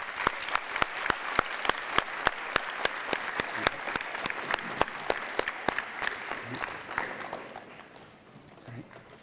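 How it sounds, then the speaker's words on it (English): An audience at an eighth-grade bridging ceremony claps for parents and family, with sharp, distinct hand claps in a quick, even patter that thins and fades out near the end. "Give them a round of applause."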